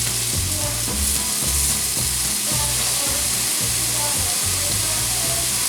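Sausage sizzles steadily in a hot pan, a dense continuous frying hiss with rhythmic low thumps and scrapes running through it, close and fairly loud, with no talking.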